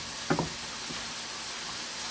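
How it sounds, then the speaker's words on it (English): A steady, soft sizzle of ackee-and-saltfish-stuffed dumplings frying fills the clip, with a couple of brief knocks near the start. "I'm frying the dumpling"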